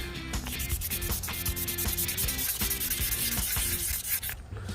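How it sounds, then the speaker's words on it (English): A Petoskey stone is hand-sanded to a fine, smooth finish, giving a steady, close rasping rub that runs continuously with repeated strokes and no talking. "sanding it down to a fine grain like this, to a smooth finish"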